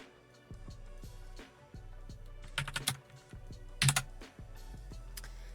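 Scattered clicks from keyboard keys sound at an irregular pace over a soft, steady musical background, with a couple of louder clustered bursts mixed in.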